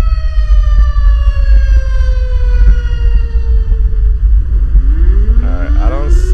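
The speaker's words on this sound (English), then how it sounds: "I don't see the siren anywhere." Emergency vehicle siren in GTA 5 with a paramedic ambulance mod, loud steady wailing tones over a heavy low rumble, with the pitch sweeping and wobbling near the end.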